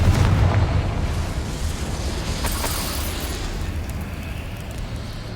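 Confringo explosive spell cast in the video game Hogwarts Legacy, a loud rumbling blast that opens the clip and slowly fades into a roaring, fiery tail.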